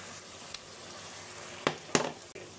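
Chicken liver browning in a frying pan gives a faint, steady sizzle, broken by a few sharp clicks and clatters of utensils against the pan.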